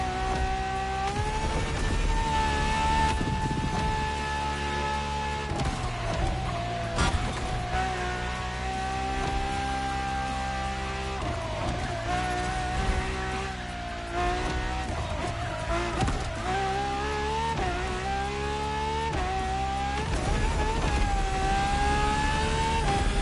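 Ferrari LaFerrari hybrid supercar with an F1-derived kinetic energy recovery system, driven in a racing video game: a loud, sustained engine drone that rises and falls in pitch through gear changes and revs, continuous for over twenty seconds with no talk.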